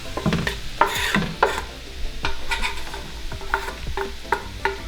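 Beef and onions frying over high heat in a pan, a steady sizzle broken by repeated scraping stirs and occasional light clinks of a utensil, close and fairly loud throughout.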